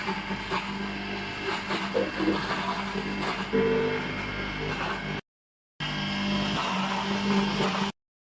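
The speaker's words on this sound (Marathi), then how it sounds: "हे मसाला पूर्ण आपण पिसून घ्यायचा आहे ब्लेंडर मध्ये।" A blender grinds boiled cashews, paneer and magaj into a masala paste for restaurant-style onion gravy, a loud steady whirring roar that runs for about five seconds, cuts out briefly, then resumes until it stops.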